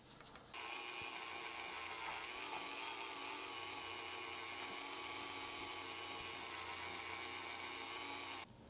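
A rotary polishing tool buffs a die-cast Hot Wheels Corvette with polishing compound, a steady high-pitched whine running loud and close for about eight seconds before cutting off.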